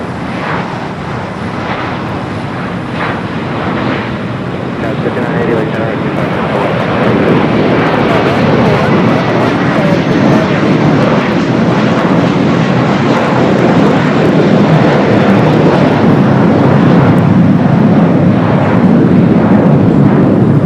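An Air Canada Boeing 787-8 Dreamliner arriving from Toronto roars with a loud jet engine sound that builds over the first few seconds, then holds as a sustained broadband rumble.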